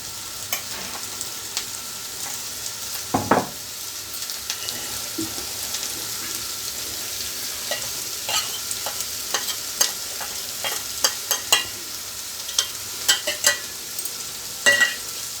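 Ivy gourd (tindora) fries in a pan with chili powder while a spatula stirs it, giving a steady close sizzle broken by repeated scraping strokes, with no talking.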